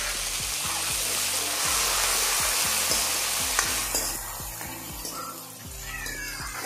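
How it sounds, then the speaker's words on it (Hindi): Tomatoes frying in a pan with golden onions for a spinach dish, a loud dense sizzle that fades slightly near the end, with a low rhythmic background hum. "टमाटर डाल दिए हमने ताकि हमारा टमाटर भी अच्छे से पक जाए"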